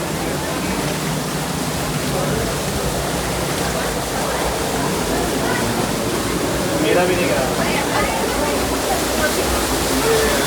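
A waterfall roars in a constant, dense rush close by, while someone says a few words partway through.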